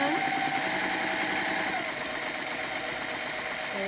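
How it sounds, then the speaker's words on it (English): A sewing machine runs steadily, stitching fabric along straight drawn lines while piecing half square triangles for a quilt, its motor humming continuously and close by for the whole stretch. "all we're going to do now is just sew straight down these lines, as straight as you can"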